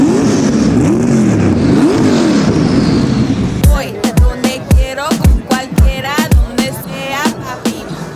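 A tuned twin-charged Mustang gymkhana car of about 1500 horsepower drones, then fires off a rapid series of sharp, loud revs and throttle blips with crackling exhaust pops, close by.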